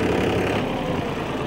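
An old 35 hp tractor engine pulling an 8 ft rotavator runs at a steady, close, loud drone with a low rumble and a slight tail-off near the end, no talking.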